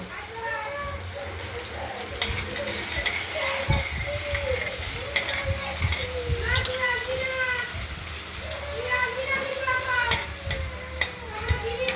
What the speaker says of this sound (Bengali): আলুগুলোকে একটু লাল লাল করে ভাজা করে নেব।